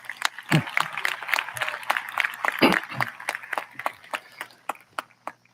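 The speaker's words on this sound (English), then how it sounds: "So let's give them a round of applause." Scattered clapping from a modest crowd at a 2021 high school commencement, building briefly then thinning to a few isolated claps near the end.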